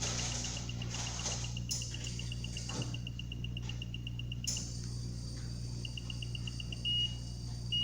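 A Crono syringe pump gives a fast, steady run of short electronic beeps while its plus button is held down, pausing briefly before the beeping resumes, over a low steady hum.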